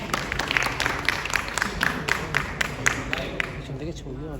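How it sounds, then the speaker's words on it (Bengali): Applause from a crowd at a series launch event welcomes actors onto the stage, a dense wash of clapping with a few sharper claps standing out, heard under a voice that talks over it and fades slightly at the end. "জোরে হাততালি হয়ে যাবে"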